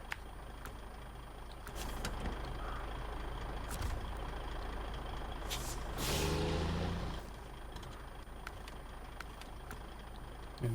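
A heavy truck in SnowRunner rumbles steadily with a low engine drone, broken by sharp hissing air-brake bursts and a louder stretch of revving midway, heard alone without talk.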